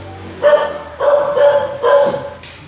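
Three barks from a dog, each a short loud burst with a harmonic tonal body, spaced about half a second to a second apart, close by, with no talk over them.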